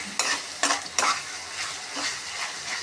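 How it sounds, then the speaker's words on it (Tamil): Chilli sauce and onions stirred into parotta frying in a pan, with a few sharp scraping strokes early on over a steady, close sizzle that continues throughout. "இதையும் சேர்த்து நல்லா மிக்ஸ் பண்ணிக்கலாம்"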